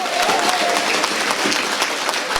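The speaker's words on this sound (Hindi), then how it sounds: "एक जोरदार ताली भाई नदीम चौहान के लिए इतनी जोरदार से बजाएं" Loud, sustained applause from a large crowd at an All India Mushaira poetry gathering in Siwalkhas, Meerut, many hands clapping densely and evenly throughout.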